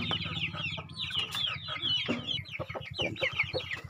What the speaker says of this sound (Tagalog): Kainuman ng mga manok.